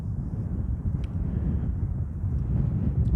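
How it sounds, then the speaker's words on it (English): Steady low rumbling wind blowing through woodland, a continuous broadband roar that swells slightly toward the end, with no voices. "A bit windy."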